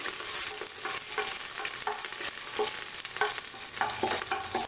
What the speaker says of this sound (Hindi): सबसे पहले मैं तेज पत्ता डालूंगी। तेज पत्ता हल्का सा भून लेंगे।